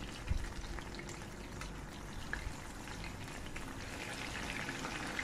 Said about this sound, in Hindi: दूसरी साइड पे भी 5 मिनट के लिए इसको फ्राई करूँगी